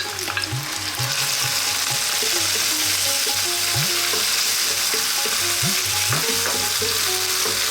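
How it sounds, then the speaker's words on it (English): Tomatoes drop into a hot pan of frying spices for an Indian fish curry, bringing a steady, dense sizzle close up with occasional low clunks and stirring scrapes throughout. "We're now going to drop in our tomatoes."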